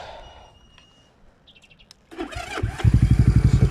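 A Yamaha XS400 motorcycle cranks and fires up after a quiet stretch with faint birdsong, settling into a loud, rapid, steady idle close to the microphone.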